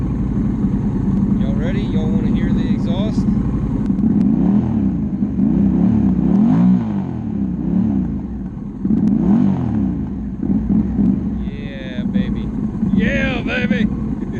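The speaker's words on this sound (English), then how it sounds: "Y'all want to hear the exhaust?" Motorcycle exhaust revving in an outdoor ride setting, loud and rumbling throughout with repeated rises in engine pitch and some clattering, under intermittent talk.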